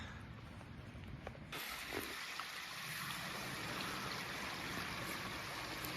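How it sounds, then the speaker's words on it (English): A small creek flowing through the woods in the Bankhead forest, a continuous broadband rush of running water that swells slightly after a brief softer start. "Another smaller creek feeding into the one I just videoed."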